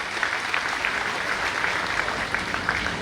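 Loud, sustained applause from an audience at a Kannada gathering honouring V. L. Santosh, many hands clapping in a dense, even wash for the full stretch.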